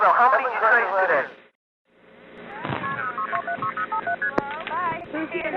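Telephone touch-tone dialing on a vacant-code conference line, with a rapid run of distinct DTMF beeps following a stretch of overlapping voices and a short pause.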